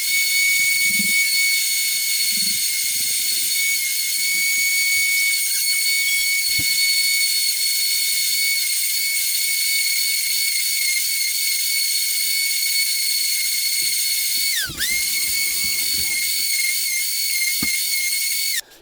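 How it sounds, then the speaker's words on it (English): An electric drywall sander clamped in a vise, sanding chrome window trim pieces with 180-grit paper, gives a loud, steady high-pitched motor whine that runs throughout, dipping briefly near the end. "I just took a drywall sander that I had, put it in the vise, and just going to work each of these pieces through."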